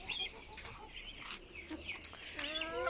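Hens in a backyard coop cluck faintly in short, scattered bursts, with some higher chirpy calls among them, at a low distant level.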